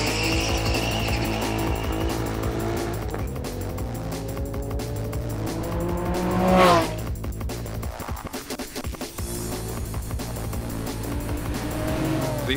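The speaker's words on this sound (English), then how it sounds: "Now for some straight line fun at the ADR Wheels drag strip test." A high-horsepower car blasts down a quarter-mile drag strip, its engine rising in pitch through several gear changes before a sharp peak and a quick drop-off as it passes, loud and close throughout.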